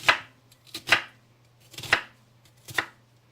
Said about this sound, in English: a sharp knife pushes right through it